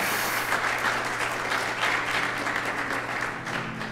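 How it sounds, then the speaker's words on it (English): Steady applause from a church wedding congregation for the pastor and church family at a Presbyterian church, a dense, continuous patter of many hands filling the room at moderate level with no one speaking over it. "Please clap for them."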